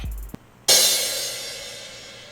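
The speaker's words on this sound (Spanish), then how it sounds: "Ese es el sonido de un platillo," A recorded drum-kit cymbal played back from a tape reel: after a faint tick, one loud bright crash swells at the onset and then decays slowly into a soft, washy tail, with no voices.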